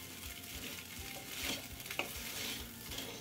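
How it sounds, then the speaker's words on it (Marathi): Sago khichdi being sautéed and stirred in a kadhai over a low to medium flame, with a soft, steady frying hiss broken by a few light scrapes of a spoon against the pan. "हे बघा, 2-3 मिनिटं आपण ही खिचडी छान परतून घेतलेली आहे"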